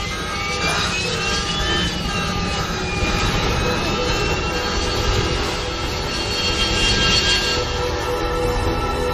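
A steady, loud airplane engine roar is heard from inside the aircraft in flight, with a droning hum that holds throughout while people talk over it.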